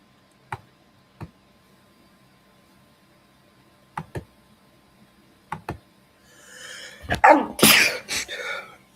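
A single loud, close sneeze bursts out near the end after a few sharp isolated ticks and clicks, with a breathy intake leading into it.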